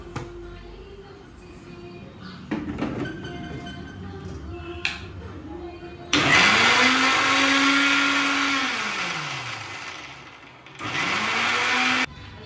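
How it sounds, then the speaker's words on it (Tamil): A mixer grinder whirs loudly in two bursts, its motor pitch rising and falling as it grinds masala paste for Kerala-style fish curry, after quieter handling sounds and clinks. "இப்போது நம்ம மசாலா அரைக்க மிக்சியில் சேர்த்தாச்சு. இப்போ நல்லா மைய அரைச்சிக்கலாம்"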